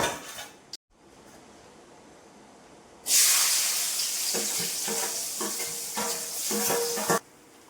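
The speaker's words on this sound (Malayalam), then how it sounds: "കടുക് പൊട്ടി കഴിയുമ്പോൾ നമുക്ക് അരിഞ്ഞ് വെച്ചേക്കുന്ന ഉള്ളിയും വെളുത്തുള്ളിയും പച്ചമുളകും കൂടെ" Chopped onions, garlic and green chilies hit hot oil after mustard seeds pop, bursting into a loud, steady sizzle with stirring clinks, alone and near for about four seconds before cutting off.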